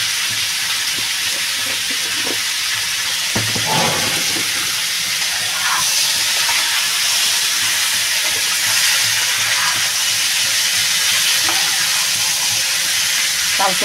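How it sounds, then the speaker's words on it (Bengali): Ash gourd pieces frying in oil in a pan with green chillies and salt, giving a steady loud sizzling hiss throughout, with a few brief clatters. "চাল কুমড়োটা একটু ভালো ভালো করে ভাজা হবে"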